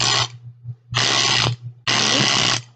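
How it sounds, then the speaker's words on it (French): An electric tile-cleaning brush spinning at 10,000 rpm gives three loud, close bursts of harsh mechanical whirring, each a second or less, separated by short pauses with only a faint hum between. "Je vais vous montrer, c'est un petit peu bruyant. Vous appuyez ici, en fait."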